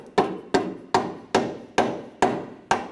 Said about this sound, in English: Just take a rubber mallet.